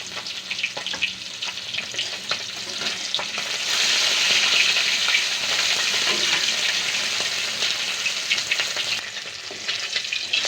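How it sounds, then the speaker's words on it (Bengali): Chapila fish lightly frying in oil for a mustard curry, giving a steady, close, dense sizzle that swells louder through the middle and eases near the end, with no voices. "মাছগুলো আমি এভাবে হালকা ভেজে তুলে নিচ্ছি।"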